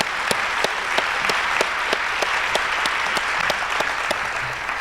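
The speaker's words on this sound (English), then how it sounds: "if we can give a round of applause to our panel and the time they've taken today" An audience applauds a panel after a community talk, with sustained clapping holding evenly for nearly five seconds, a few sharp claps standing out near the front.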